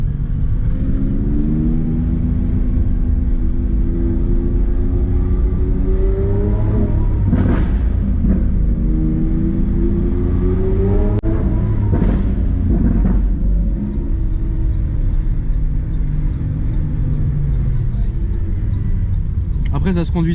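A Lamborghini Aventador S engine roars while driving, a loud, deep, steady rumble with rising and falling revs and a few sharp surges, heard from inside the car, and someone talks over it.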